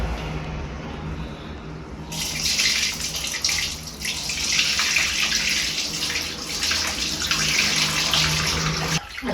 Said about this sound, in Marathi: पाणी ओतून